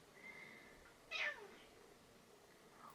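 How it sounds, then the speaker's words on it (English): Angel, a pet house cat, lets out a single short meow in a quiet room, clear but not loud, with a faint tonal hum in the background. "That's just my cat."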